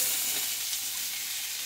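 Shallots sauté in a pan for kurma, giving a steady, bright hiss of frying oil that holds evenly, close and alone.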